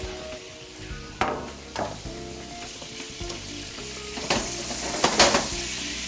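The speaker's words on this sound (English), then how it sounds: "I saute these in olive oil" Meatballs sauté in olive oil in a pan, giving a close, continuous crackling sizzle broken by a few louder bursts as they are stirred or turned.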